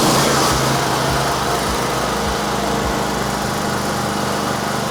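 A 10kW gasoline generator started from its controller start button, running as a loud, steady engine drone with a regular low pulsing that smooths out toward the end, close and continuous.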